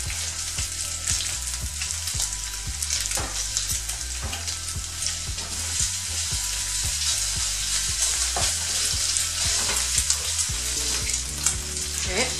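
Pork belly fries in a pan for carbonara, a loud steady sizzle with crackling pops and occasional stirring scrapes throughout, no voices.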